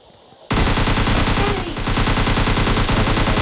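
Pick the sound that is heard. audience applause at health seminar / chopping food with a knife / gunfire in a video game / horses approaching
gunfire in a video game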